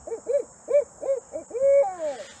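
A person imitates a barred owl's 'who cooks for you' call, giving a series of rhythmic hooting notes that end in a longer drawn-out descending hoot, clear and fairly close.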